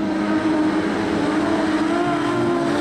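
Production sedans racing around Kingaroy Speedway's dirt oval, a steady loud engine roar with layered motors droning and rising slightly in pitch as cars push through the corners.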